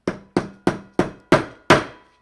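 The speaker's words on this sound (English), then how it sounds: "Take the hammer." Six evenly spaced hammer taps on a leather key fob laid flat on a table, each a crisp, close knock with a short decay, the last ones slightly louder.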